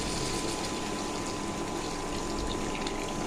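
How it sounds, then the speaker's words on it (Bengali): Hot water gushes steadily into a pan of omelette and soybean curry, a loud continuous pour close by with no break and no voices. "এবার আমি গরম জলটা দিয়ে দেবো"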